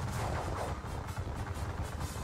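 Troops fire in a Napoleonic war strategy game, a faint, continuous crackle of musketry and rumbling bursts heard from a distance, with no talk.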